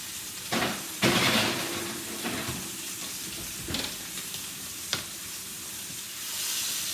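A steak searing and being basted in a cast iron pan sizzles steadily, with several bursts of louder spitting and a few metallic clinks of a spoon or tongs.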